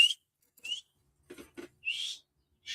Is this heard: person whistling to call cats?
yes